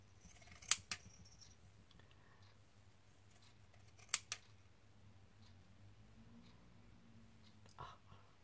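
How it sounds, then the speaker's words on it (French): Pinking scissors snip through paper card in a few crisp, close cuts, two quick closes near the start and another pair midway, with soft handling rustles between. "Avec mon ciseau cranteur. Hop. On coupe."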